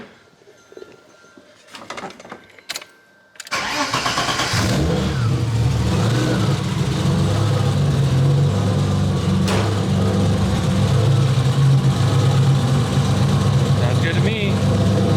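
A BMW E30 engine cranks and fires up after some rustling, then holds a loud, steady idle up close for the rest of the stretch, with a voice speaking over it.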